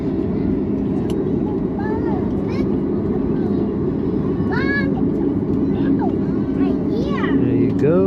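An American Airlines airliner taxis after landing at Kingston, Jamaica, its engines a loud, steady roar heard from inside the cabin, with chirping and squeaky sounds over it and voices at times.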